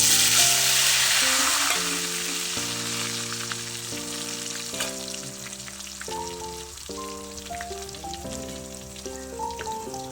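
Finely chopped garlic hits hot oil in a pan, setting off a loud, dense sizzle that slowly eases. A tonal instrumental melody plays beneath it, and no voices are heard.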